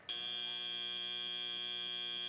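An end-of-match buzzer at an FTC robotics tournament gives one steady, sustained electronic tone of about two seconds. It is fairly faint and heard alone, with no talk over it.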